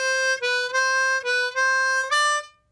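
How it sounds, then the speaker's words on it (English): A harmonica plays a short lick over the 5 chord, alternating 4 blow and 3 draw in a series of clean, loud sustained notes with brief gaps. It steps up in pitch near the end, then fades to silence. "This next lick is one of my favorites to play when the music transitions over to the 5 chord."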